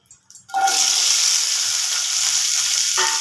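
Finely chopped okra, cut into longish pieces, drops into hot oil in a pan and erupts into a loud, steady sizzle that holds for several seconds after a brief quiet start.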